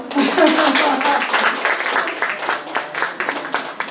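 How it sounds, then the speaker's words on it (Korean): A small audience at a bookshop book concert with a professor of Korean medicine claps together, loud at first, then thinning into scattered, separate claps as it winds down. "박수."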